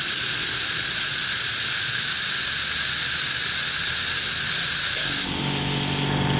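An oil-less Lakoni Fresco air compressor runs continuously, giving a loud steady hiss with a high whine; near the end its motor note shifts lower and a new pitch joins, with no one talking.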